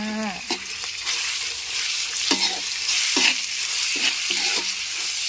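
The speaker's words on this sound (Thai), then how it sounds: "ใส่เนื้อหมูลงไปผัดเลยค่ะ" Pork stir-fried with garlic in a hot pan for a spicy Thai dish: a loud continuous sizzle with repeated clanks and scrapes of a spatula against the pan every second or so.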